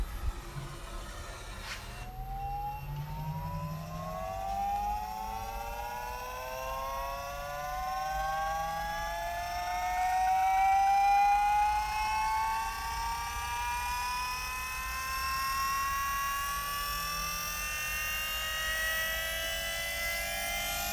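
Electric power steering pump on a Vauxhall Astra running steadily, giving a whining, singing tone that rises slowly in pitch and holds over a low hum, with no talking.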